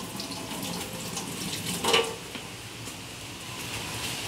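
Water runs steadily from a tap, a continuous splashing hiss with a brief brighter splash midway.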